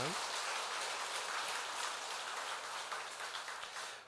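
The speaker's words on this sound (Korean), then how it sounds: "우리 감사의 박수를 좀 한번 하겠습니다" Church congregation applauding in thanks, a dense, steady wash of clapping that stays fairly even and fades slightly toward the end.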